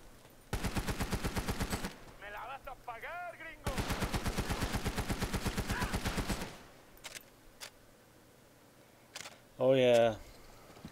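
Two long bursts of rapid automatic fire from a BR-19 rifle in the Army of Two video game, close and loud, with a short pause between bursts. Quieter game effects and a brief sharp sound follow.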